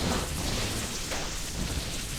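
Thunderstorm skill effect in Project Diablo 2: a dense, continuous rain-like roar with rumbling thunder underneath, steady and loud throughout with no pauses.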